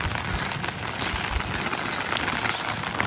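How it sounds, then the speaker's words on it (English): Steady rain falls on a windy campground near Niagara Falls, with an umbrella overhead, producing a dense, even hiss of drops with a low rumble underneath and no voices. "so overnight it rained. It's still raining."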